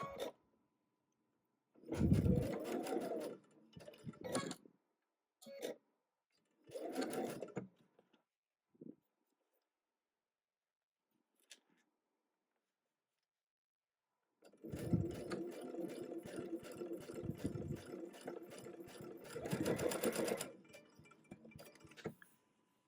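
A sewing machine stitching quilt pieces runs in loud mechanical bursts, short runs early on and then a longer sustained run of rapid stitching, separated by quiet pauses with small handling clicks.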